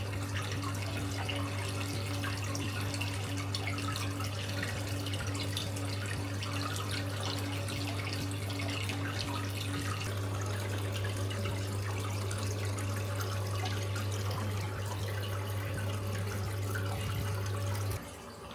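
Water pouring steadily into a snowy outdoor hot spring bath at a guest room in Abashiri, Hokkaido, a constant splashing flow with a low hum beneath, close and uninterrupted.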